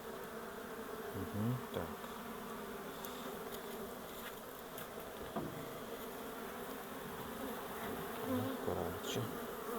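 Honeybees buzz steadily around an open hive, a dense close drone with occasional individual bees passing near, while people talk quietly in the background.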